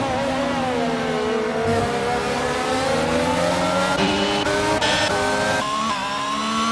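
Racing cars from a racing video game, including a Red Bull and a Ferrari on a track in Spain, whine loudly and continuously, engines revving up and down through gear shifts, close and dominant with no talk.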